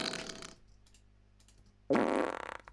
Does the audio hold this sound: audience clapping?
no